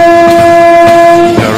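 Train pulling into a station sounds a loud, sustained horn blast, close and dominant, over rumbling rail noise.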